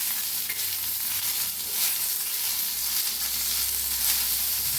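Green chillies with garlic and asafoetida stir-roasting in hot oil in a pan, a steady close sizzle with faint scraping from the stirring and no talk.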